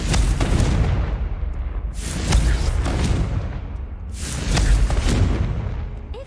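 Confringo fire spell blasts in Hogwarts Legacy, three heavy booming explosions spaced roughly two seconds apart, each with a sharp crack followed by a long rumbling roar, loud and close.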